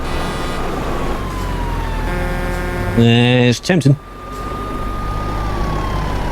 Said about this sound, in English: I think it's because they can hear the sirens.